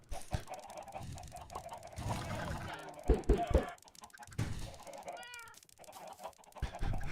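Minecraft chickens clucking in short bursts amid game noise, with several brief sharp pecks or pops and a rising chirp near the middle, moderately loud and uneven.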